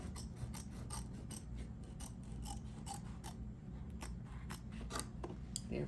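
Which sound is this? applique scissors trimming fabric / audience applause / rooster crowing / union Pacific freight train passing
applique scissors trimming fabric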